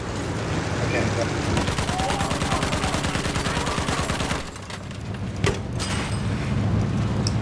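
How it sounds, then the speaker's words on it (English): Rapid gunfire in the Battlefield 1 video game, a steady stream of machine-gun bursts with vehicle rumble beneath, under moderate level and briefly dropping before resuming near the end; a voice speaks faintly over it. "he's shooting at you"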